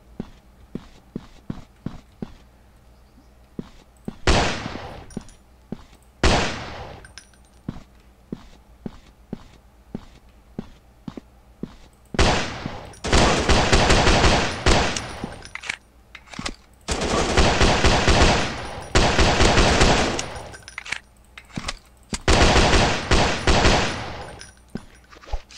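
Gunfire in an FPS game running on the LD Player Android emulator: quick clicks and footstep-like taps, then several loud sustained bursts of rapid automatic fire, close and alone.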